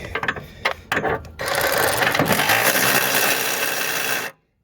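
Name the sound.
wrench ratcheting on a transmission bolt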